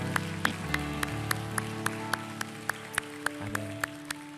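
A church congregation claps in steady rhythm at a Korean worship service, the sharp, evenly spaced claps ringing out over sustained keyboard or organ chords that run underneath throughout.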